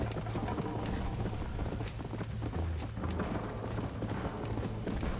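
Horse hooves clip-clop steadily in the Red Dead Redemption video game, a continuous galloping rhythm over a low droning hum, fairly loud and unbroken throughout with no talk.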